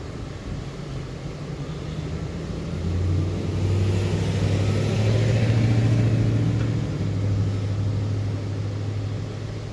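A car seat massager gives a low, steady mechanical rumble that hums under quiet ambient noise, swelling in the middle and easing toward the end.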